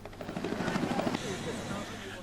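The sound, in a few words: helicopter giving rides at air show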